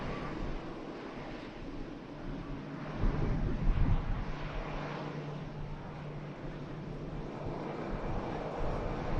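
An airliner in Wimbledon special livery lands at Manchester Airport in strong winds, a broad engine roar that swells around the middle and stays heavily masked by gusting wind noise on the microphone.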